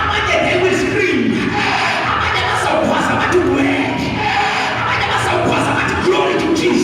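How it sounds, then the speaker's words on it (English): Church congregation shouting in praise, a loud mass of overlapping cheers, yells and whoops from many voices sustained throughout. "So you shout and praise the Lord."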